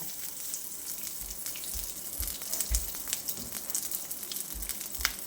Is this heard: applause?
no